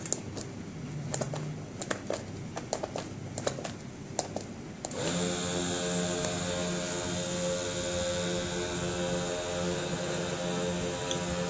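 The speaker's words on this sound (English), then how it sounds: "the air is exerted inside the air bladder through this motorized pressure pumps" Motorized pressure pumps inflate the air bladders of a scoliosis brace: a few light clicks come first, then the pumps start into a steady, continuous humming drone that holds to the end.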